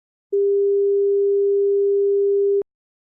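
A clean 400 Hz sine tone starts after a brief silence, holds at a constant level for over two seconds, and stops with a faint click.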